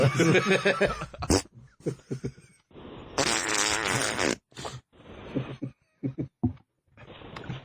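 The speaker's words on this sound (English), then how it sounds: "I think I have a little gas right now." Several short, buzzy farts break up the quiet between stretches of other low, raspy noise, loud and close to the microphone.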